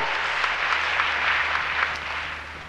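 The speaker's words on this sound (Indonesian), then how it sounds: "Tepuk tangan buat Tuhan kita" Congregation in a church applauding together, a broad wash of clapping that holds steady, then eases off slightly toward the end, with a faint low hum underneath.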